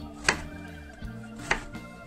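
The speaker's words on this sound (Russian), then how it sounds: "достаточно крупно нарезаем" Two sharp knife chops strike a cutting board about a second apart as eggplant is cut into large pieces, with softer knocks and scraping in between.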